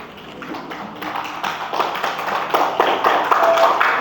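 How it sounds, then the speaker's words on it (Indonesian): Group applause in a classroom session, many hands clapping in a steady dense patter that builds slightly louder over a few seconds, with faint voices underneath. "beri aplaus dulu untuk kelompok 1"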